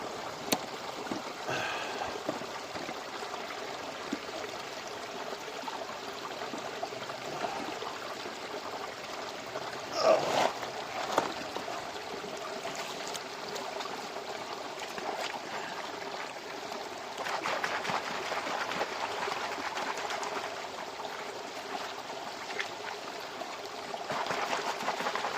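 Steady rush of a flowing stream with water swirling and trickling as gravel is worked in a gold pan, one brief splash or knock near the middle, continuous and moderately close with no talking.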